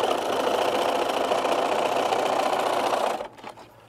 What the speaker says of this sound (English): we're going to stitch across those side seams